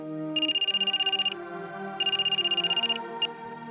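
A phone ringtone sounds late at night as a bright, pulsing warble in two long bursts and a short third blip, fairly quiet and steady over a low background hum, with no talking.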